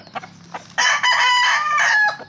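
Seven-month-old Dom gamecock stag crowing once, a loud close crow of about a second and a half, preceded by a few soft clucks in a backyard.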